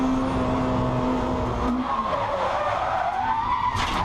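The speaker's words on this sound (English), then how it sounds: "that was an unprovoked spin by Dominic." At Brands Hatch, a race car spins and its tires skid and squeal loudly and at close range over a few seconds, while the engine note drops away as the car stalls.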